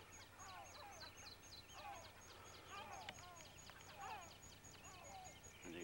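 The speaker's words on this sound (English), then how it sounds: "And you can hear the gulls still." Seabirds calling at sunset on Inishmurray island, a steady run of rapid, repeated high cries from a flock at middle distance, with a constant wind or sea hiss and quieter bird chatter underneath.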